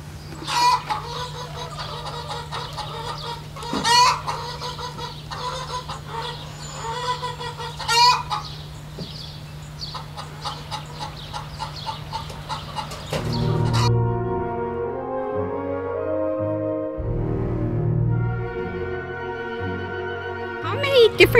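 Chickens clucking at a farm, with repeated short clucks and squawks close by, a steady hum underneath, then a shift to a different scene with a voice and tonal sounds.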